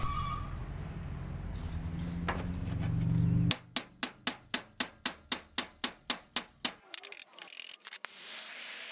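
Heated aluminium channel being bent over an MDF form, a burst of roaring torch-like noise followed by about a dozen loud, evenly spaced sharp knocks of hammering, then softer clatter.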